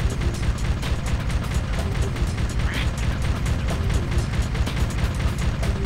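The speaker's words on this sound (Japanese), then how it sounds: "なんか爆発音がしてる" Explosions in the video game Ratchet & Clank: steady, dense rumbling booms and bursts layered over continuous game sound effects and music, loud throughout with no pause.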